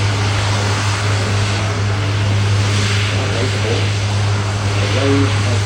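RAAF C-130 Hercules turboprop at Avalon Airport airshow, a loud steady propeller drone with a strong low hum throughout, with an announcer's voice faintly heard over it.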